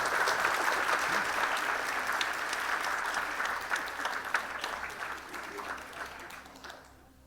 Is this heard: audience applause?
yes